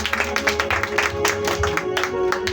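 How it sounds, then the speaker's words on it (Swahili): A church congregation claps hands for Jesus during a worship service, with rhythmic, fairly loud clapping and a sustained musical tone underneath. "Pigia Yesu makofi mazuri"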